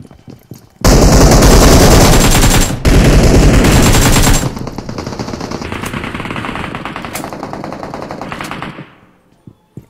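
Video game gunfire, a very loud close machine-gun burst of rapid shots for several seconds, a brief pause, more firing, then quieter continuing shots that fade out.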